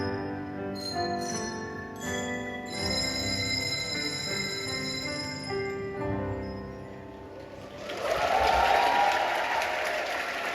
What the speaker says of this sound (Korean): 박수 소리가 생각보다 컸습니다